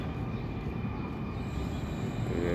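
A steady low rumble of a metro train rolling out of its depot on a winter morning, continuous and moderately loud with no voices over it.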